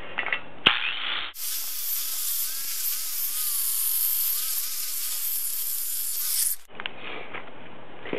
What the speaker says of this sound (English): the final test with just the wire wheel here